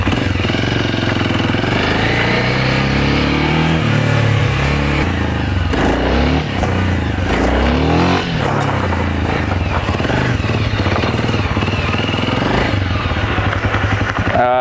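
Sherpa 250 dirt motorcycle revving hard during a wheelie attempt without the clutch: a loud, continuous buzzing engine roar with rising and falling revs, close to the microphone throughout.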